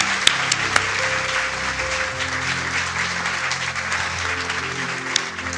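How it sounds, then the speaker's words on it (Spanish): A church congregation gives sustained applause in gratitude to the Lord, a steady dense wash of clapping lasting several seconds with a few sharper claps standing out. "Démosle un aplauso al Señor de gratitud"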